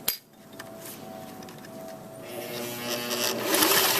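A sewing machine stitching a hanger strap back onto a skirt, starting with a sharp knock, then a soft steady whirring hum that gradually grows louder and brighter toward the end, close and without speech.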